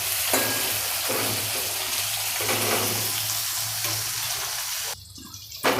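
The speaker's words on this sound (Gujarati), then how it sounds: "થોડુંક આને તેલમાં થવા દઈશું" Gunda and raw mango fry in oil for a Gujarati sambharo, a loud, steady, close sizzle that holds without pause before a brief shift near the end, with no talking.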